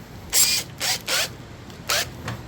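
A drill chuck being tightened on a Forstner bit during a dining chair repair, heard as four short ratcheting mechanical bursts, close and fairly quiet, separated by brief pauses.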